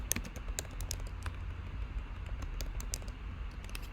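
Rapid typing on a computer keyboard as the name Ana Maria Torres is entered in Photoshop: a steady run of light, close clicks and taps over a low background hum, with no speech.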